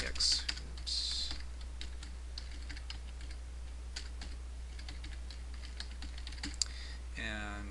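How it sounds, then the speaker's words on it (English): Fingers type an email address on a computer keyboard, a quick run of close, crisp key clicks with brief pauses, over a steady low electrical hum, with no talking. "I'm going to go ahead and type in an email address here just for kicks."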